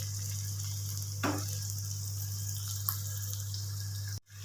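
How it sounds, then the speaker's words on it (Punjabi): Onions frying in a pan of oil for a Punjabi okra curry, a steady close sizzle with a brief scrape of a ladle stirring partway through and a short break near the end. "ਲਓ ਜੀ ਪਿਆਜ਼ ਆਪਣੇ ਭੁੱਜ ਰਹੇ ਨੇ ਜੀ"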